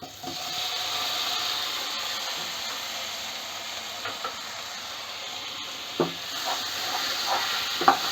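Tomatoes are stirred into a sizzling butter chicken masala, giving a continuous close frying hiss with occasional soft spoon scrapes and knocks against the vessel, a few slightly sharper clinks near the end, no talk.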